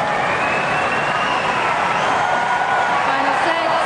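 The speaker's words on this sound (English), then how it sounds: "The crowd will cheer Tipsarevic back on court." Tennis crowd at the 2008 Australian Open cheering and applauding as Tipsarevic returns to court for the fifth set against Federer, a steady broad roar filling the arena with no pause over nearly four seconds.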